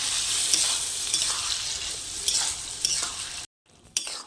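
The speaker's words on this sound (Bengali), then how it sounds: "এর মধ্যে দিয়ে দেব ডাল আর আলু যে সেদ্ধ করে নিয়েছিলাম ওটা দিয়ে দেব দিয়ে ভালো করে মশলার সাথে কষিয়ে নেবো" Boiled lentils and potatoes stir-fried with spices for tadka, a steady close sizzle with scraping stir strokes throughout, briefly cutting out near the end before resuming.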